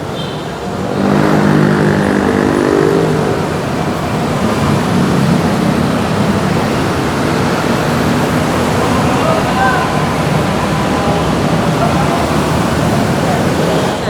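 Motorcycles and road traffic ride through a city bus lane, a steady loud roar of passing engines with revving filling the whole stretch.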